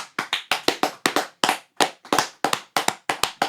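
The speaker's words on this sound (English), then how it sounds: "Can I get a round of applause?" Scattered claps, about a dozen sharp separate hits at an uneven rhythm, close and dry, on a UK rap podcast; sounds like a few hands rather than a crowd.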